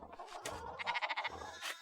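Sheep bleat in the video game Pentiment, a farm scene in the Bavarian Alps, with a few wavering, nasal bleats in short bursts at moderate volume and no talking.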